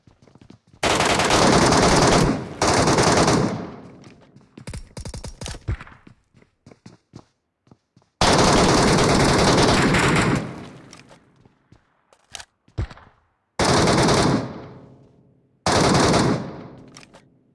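Automatic gunfire from PUBG Mobile, with loud sustained bursts of rapid shots in several separate volleys, short quieter single shots and footsteps in the gaps between them.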